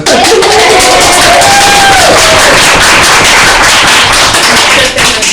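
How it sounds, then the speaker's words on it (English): Audience applause at a Lost Girl Season 3 premiere fan panel, a dense, loud, continuous wash of many hands clapping close by, with some voices mixed in throughout. "But we're clapping"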